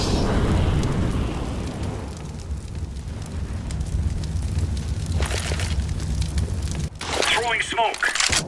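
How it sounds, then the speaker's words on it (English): Grenade and incendiary blasts in the video game Sniper Elite 4: a heavy rumbling boom fades into a sustained fiery roar, with further sharp bursts and a brief shouted voice near the end. "Throwing a grenade."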